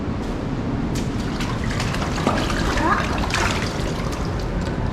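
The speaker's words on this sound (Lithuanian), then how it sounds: "Vanduo." Water flowing steadily through a tunnel, a dense continuous rushing and trickling wash with a faint echo, loud and even throughout.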